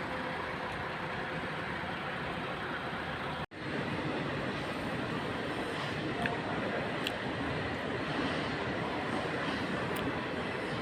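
Metro train ride in Azerbaijan: a steady, dense rolling rumble fills the whole stretch, with a brief dropout early on and faint clicks over the continuous roar.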